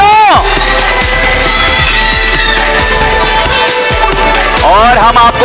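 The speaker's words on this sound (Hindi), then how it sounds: "तालियां जोर से बजाओ हैदराबादियों" Mall game show crowd in Hyderabad cheering and shouting loudly and continuously, with whoops and yells from children and adults, a dense near wall of voices throughout.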